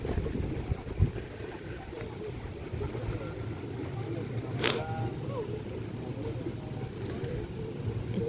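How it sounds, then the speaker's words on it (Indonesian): Strong gusty wind sweeps over a mountain campsite near Gunung Gede at Bungas Puncak, Cipanas, buffeting tents during rain on New Year's Eve; a steady low roar continues throughout, with distant voices and a brief bump near the start. "Semoga lekas reda angin dan hujannya."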